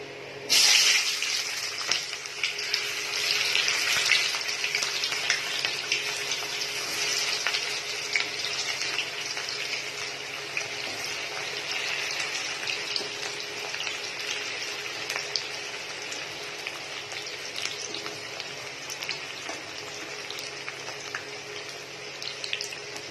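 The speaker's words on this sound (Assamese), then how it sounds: "তেলখিনি সম্পূৰ্ণভাৱে গৰম হোৱাৰ পিছত আমি গৰম তেলত কুটি লোৱা পিঁয়াজখিনি" Chopped onions dropped into hot mustard oil for an Assamese local chicken curry, giving a steady, loud, hissing sizzle that flares at the start and holds evenly throughout with no talking.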